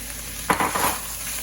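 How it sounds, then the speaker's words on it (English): Ground meat with tomatoes and onion sizzles in a pan as a spoon stirs it, a short burst of hissing and scraping that fades back to a low background crackle. "We're gonna mix this in together. We're gonna let it cook."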